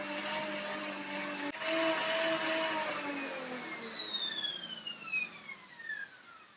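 Exercise bike flywheel spinning steadily with a whirring, tonal hum that slowly winds down in pitch as it coasts, heard close and alone.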